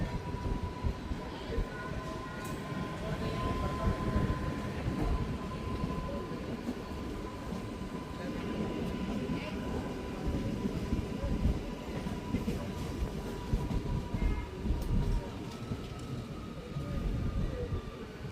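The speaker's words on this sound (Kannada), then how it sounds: "ಎರಡು ನಿಮಿಷ ಹಾಲ್ಟ್ ನಂತರ ನಮ್ಮ ಟ್ರೈನು ಬ್ಯಾಡಗಿ ರೈಲ್ವೆ ಸ್ಟೇಷನಿಂದ ಹೊರಟಿದೆ." A Hubballi to Arasikere MEMU train pulls away from Byadgi station and runs on, a steady close rumble and rattle of carriages with wheel clatter and a faint squeal throughout.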